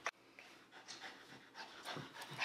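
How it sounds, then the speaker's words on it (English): A dog pants steadily and close by, with quick, rhythmic breaths and no talking over it. "This dog is a very violent doggy."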